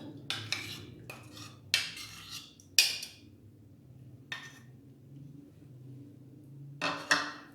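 A spoon stirring green chutney into dahi bhalla in a bowl, giving several clinking, scraping bursts of metal on dish with quiet gaps between them, close and moderately loud.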